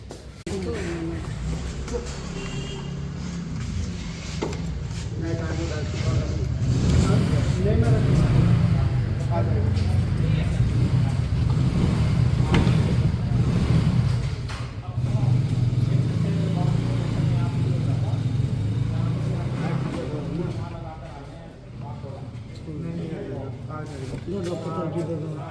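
A car engine hums at a low, steady pitch as the car drives to a railway station. The rumble swells and eases slightly, and people talk over it.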